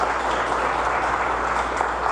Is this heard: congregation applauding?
yes